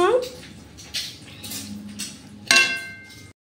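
Thick soybean curry is tipped from a wok into a bowl, giving metallic scrapes and clinks of utensil against the pan, with a sharper clink near the end; faint and close, partly under a voice.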